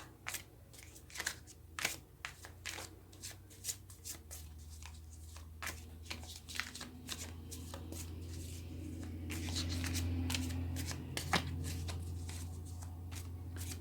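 Tarot cards are shuffled and handled in repeated soft, crisp riffles and taps, fairly quiet and close, over a low background hum.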